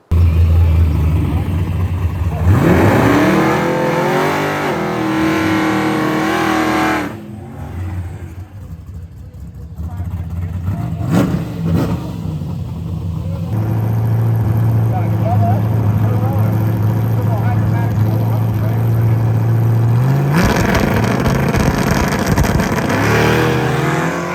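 Bracket race cars accelerating hard down a drag strip, loud engine roar with a revving launch early, a quieter stretch, then a sustained drone and another surge near the end; voices are heard in the mix.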